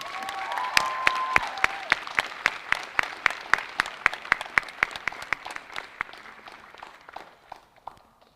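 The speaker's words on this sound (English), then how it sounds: "Please hold your applause until the end." Clapping at the Westover School Class of 2020 graduation during reunion weekend: sharp, evenly spaced claps from a modest group, steady at first, then thinning and fading out toward the end.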